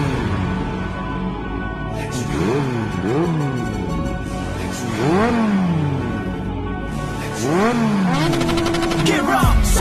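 Inline-four motorcycle engine revving hard and downshifting on a ride, with repeated rising and falling rev sweeps and blips, loud and close, with other engines and traffic in the background.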